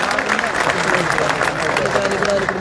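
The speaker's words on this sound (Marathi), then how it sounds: "आपण जोरदार टाळ्या वाजून त्यांचं स्वागत करावं." An audience at a political gathering claps to welcome an MLA, a dense wash of applause at moderate volume that carries steadily from start to finish, with crowd murmur mixed in.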